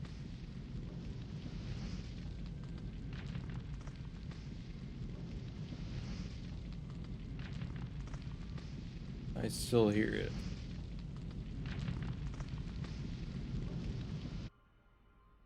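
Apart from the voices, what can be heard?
fire effect in Halo Wars mod, video game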